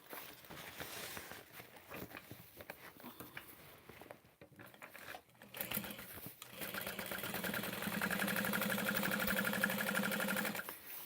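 A sewing machine top stitches a bag, starting with scattered handling sounds and short runs, then settling into a steady, close, continuous stitching hum through the second half.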